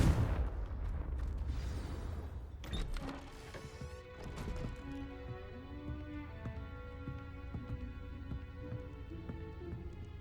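A Confringo spell blast in Hogwarts Legacy sets off a loud broadband crash at the start, followed by debris and crackling impacts, then a sustained, ringing tonal swell as the blast fades out.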